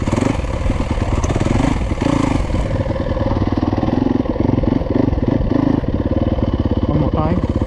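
A Yamaha YZ250 dirt bike engine is held at elevated RPM on a wooded trail, a loud, steady, rattly two-wheeler buzz with rapid firing pulses and small rev blips, close to the microphone throughout.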